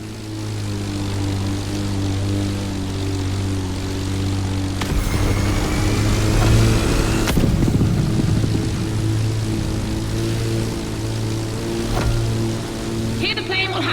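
A propeller plane drones steadily throughout in the racing game The Crew Motorfest, a strong low engine hum with a sharper burst of noise midway, loud and continuous with a faint voice underneath.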